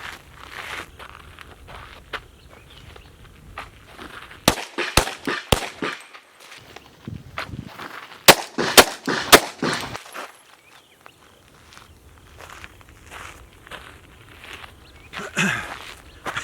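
A pistol fires a cluster of sharp outdoor shots mid-clip, mixed with shuffling footsteps and movement as the shooter backs away, with quieter rustling before and after.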